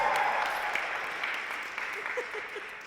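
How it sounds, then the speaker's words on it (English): Audience applause at a queer healthcare panel discussion during a student pride event, a steady spread of clapping at moderate level with faint voices mixed in, continuing for a few seconds. "I feel like we need a round of applause just for that part."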